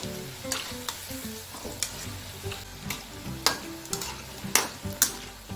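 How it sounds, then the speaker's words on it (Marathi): Cabbage Manchurian balls deep-fry in hot oil with a constant bubbling sizzle. Close, sharp clinks of a spoon or slotted ladle against the pan come irregularly and grow louder later. "बघा, अशा प्रकारे आपले मंचुरियन बॉल्स तळून घ्यायचे आहेत"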